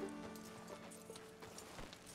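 Horse hooves clip-clop at a walking pace in the video game Red Dead Redemption 2, a steady rhythm of moderately loud steps over a faint background hum, no talking.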